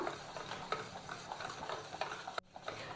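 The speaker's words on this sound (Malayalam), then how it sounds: "ഒരു 5 മിനിറ്റൊക്കെ ഇതുപോലെ നന്നായിട്ടൊന്ന് ബീറ്റ് ചെയ്ത് കൊടുത്താൽ മതി." A whisk beats whipping cream by hand in a bowl, making a steady, fast, rhythmic scraping and swishing. The sound is close and continuous, with one brief break near the end and no speech.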